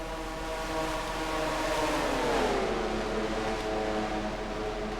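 Stock race cars of the NNSCRA Mello Yello series run in a pack at the Motorcraft 300. A steady engine drone with layered harmonic whine swells slightly mid-clip as the cars close in, then holds at a constant level.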